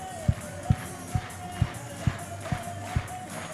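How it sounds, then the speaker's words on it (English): A baseball crowd claps in a steady rhythm, about two beats per second, eight sharp claps over a busy stadium murmur. "let's get it clapping. Here we go, JC. Clap those hands."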